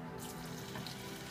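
A steady, faint crackling hiss of shrimp frying in hot olive oil, continuous and even throughout.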